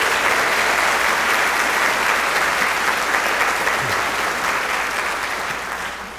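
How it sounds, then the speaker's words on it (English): At a Student of the Year awards dinner, a large crowd applauds students and their families with steady, loud clapping that thins slightly toward the end. "How about another round of applause, not only for the students, but also for all the family members that are here"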